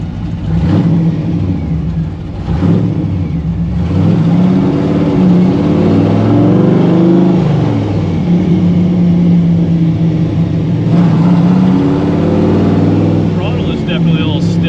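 A 1955 Chevy Nomad gasser's engine revs with a stiff throttle, loud rising and falling bursts of engine roar close by, with people talking over it.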